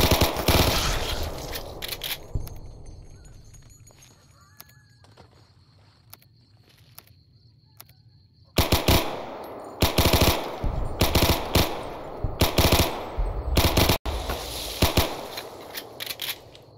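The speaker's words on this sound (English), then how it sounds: "Give me the submachine... The Thompson here." A Thompson submachine gun in a Fallout game, fired in long rapid bursts that crackle loudly and close, with a first volley, a quieter gap with faint ambient noise, then sustained repeated bursts.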